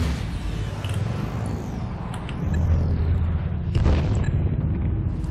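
Bomb exploding on a colony planet in the game Spore, a muffled rumbling boom with swelling low-end swells and a sharper burst near the end, no voices over it.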